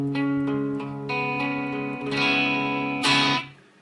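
An electric guitar played alone with a mostly clean tone and slight grit, strummed chords ringing out with a brighter accented strum near the end.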